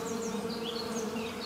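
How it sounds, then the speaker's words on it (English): A bee buzzes close and steady for a short moment, a continuous droning hum with no other sounds. "Bee."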